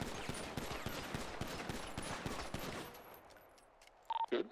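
Rapid gunfire from a firearm at a police academy shooting range in the NoPixel roleplay game, a dense string of sharp shots for about three seconds before tapering off, followed by quiet and a brief electronic tone.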